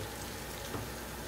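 Potatoes and onions frying over high heat in a pan give a steady, quiet, even sizzle with no talking.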